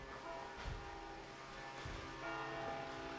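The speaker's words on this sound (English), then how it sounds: "Yep, I can hear bells" Church bells ring somewhere beyond a house in Italy on a rainy day, a steady, fairly distant pealing that blends with the soft wash of rain and continues throughout.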